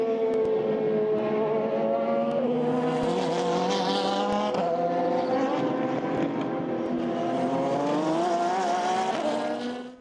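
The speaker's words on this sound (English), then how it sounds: "the Felbermayr Porsche, Junior and Reed, who already seem to be leading the dance" Le Mans Series race cars, Porsche and Ferrari, scream past at full throttle, loud layered engine howls with shifting pitch as they accelerate and change gear, continuous for ten seconds before cutting off.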